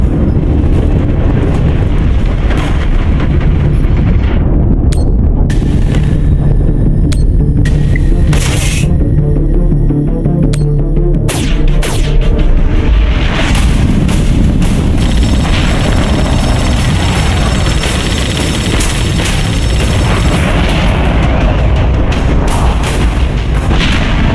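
In The Expanse: A Telltale Series game, torpedoes are fired and explode in a loud, dense barrage of booming blasts and sharp bursts that continues throughout against a roaring background, with no speech.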